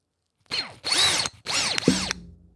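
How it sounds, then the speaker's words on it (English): A toy prop drill whirs close by in three short buzzing bursts, each about half a second long and separated by brief pauses, ending with a small click. "Did that sound like a drill?"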